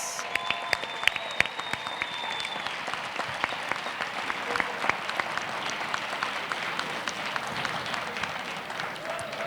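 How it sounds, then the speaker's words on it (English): An audience at a scholarship ceremony gives a steady round of applause for award recipients, a dense wash of clapping held at moderate distance for the whole stretch, with a few brief higher tones early on. "what about one big round of applause for our 2020 John and Abagail Adams"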